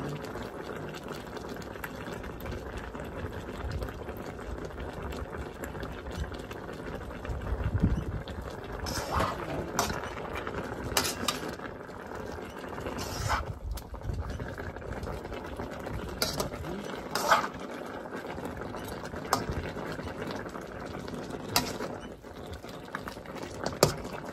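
A pot of pork ribs adobo with balsamic vinegar simmers steadily, a continuous low bubbling with occasional louder pops and clinks over about twenty-four seconds, and no one speaking.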